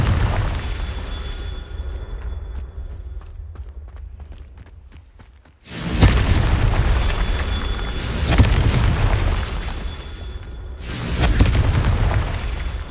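A Confringo spell fired in the video game Hogwarts Legacy blasts with a sudden loud boom, followed by sustained rumbling bursts and a second impact near the end, after a quieter stretch of scattered crackles.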